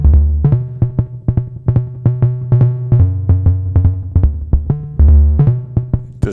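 A low synth tone passes through a Schlappi lowpass gate: a run of punchy, plucky low notes with a slightly odd attack, firing in an uneven rhythm at changing pitches, loud and close with no voices.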